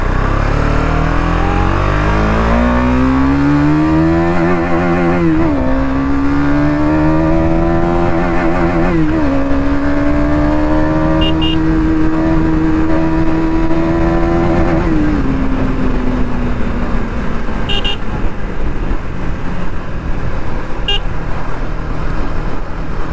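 A car engine revs hard on a hill road, its pitch climbing quickly and holding high in several steady surges, loud and close with a brief horn-like toot, no talk.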